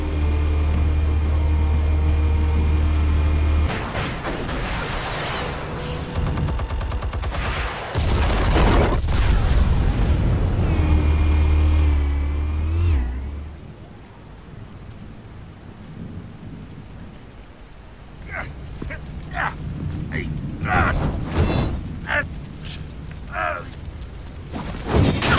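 Heavy booms and explosions with crackling gunfire in Batman: The Telltale Series, a loud sustained rumble for the first half that drops to a quieter bed with scattered sharp cracks and bursts.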